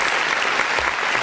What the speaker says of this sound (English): where the heck are my freaking claps?